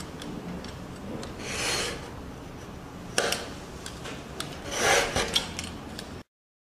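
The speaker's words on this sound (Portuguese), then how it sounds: "E depois com a régua também, tá? Você vai colocar aqui e vai cortar todas as partes da caixa." A blade drawn along a ruler cuts parts of a cardboard box, giving a few scratchy rasping strokes with light taps between them, close and fairly quiet, no speech.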